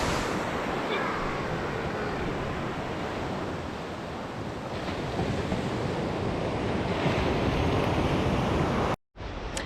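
Atlantic surf washes steadily onto Culdaff Beach on Ireland's Wild Atlantic Way, a continuous roar of waves mixed with heavy wind buffeting the microphone before a sudden cut near the end.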